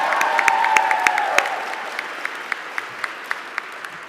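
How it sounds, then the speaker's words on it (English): Audience applause for Michigan legislators at a clean energy bill signing with the governor, a few sharp claps rising into brief crowd clapping that thins to scattered individual claps, with a short voice at the start. "we should clap for them"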